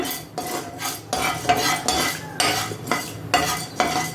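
A spoon scrapes and clinks around a pan as chutney ingredients with urad dal are mixed, giving repeated rhythmic strokes about every half second, close and fairly loud, with no voices.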